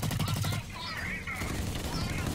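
Assault rifle fire in Blacklight: Retribution, with a rapid burst of close shots at the start and then a busier mix of game effects, with a voice talking over part of it.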